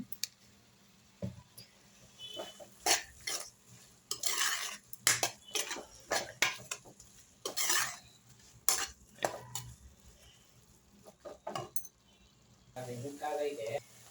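A spoon scraping and stirring red amaranth greens in a pan during home cooking of a palya, giving irregular clinks and scrapes with a faint sizzle between them, fairly close and at low volume.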